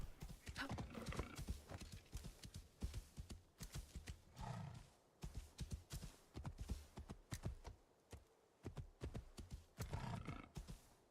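A horse in a video game trots with steady clip-clop hoofbeats and lets out snorts and whinnies. The sound carries a rough, roaring edge throughout.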